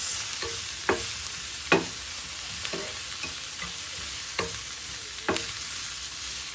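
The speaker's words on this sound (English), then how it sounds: "a little bit of ginger powder. And we're gonna let it" Chicken gizzards roasting in a pan with ginger powder, giving a steady close sizzle broken by several sharp stirring scrapes at irregular intervals, with no talking.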